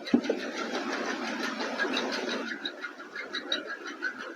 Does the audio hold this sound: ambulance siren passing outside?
no